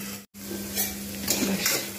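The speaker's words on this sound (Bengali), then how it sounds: "উচ্ছে খুব ভালোভাবে ভাজা হয়ে গেছে" Sliced bitter gourd frying in a pan, with a short, steady sizzle under a few stirring scrapes and a brief cut near the start.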